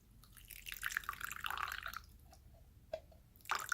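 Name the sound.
meat juice poured into gravy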